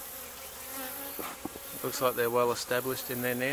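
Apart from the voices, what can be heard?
bees flying around a beehive with beetle trap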